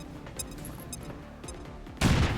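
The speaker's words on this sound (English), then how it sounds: "Firing grenade." A grenade fired in the video game XCOM 2 goes off as one sudden, loud, heavy burst near the end, after a stretch of quieter game effects with faint clicks and tones.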